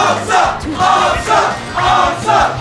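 A large crowd at a Super Smash Bros. Melee tournament roars and cheers loudly in repeated swelling waves, close and dense, with no clear speech.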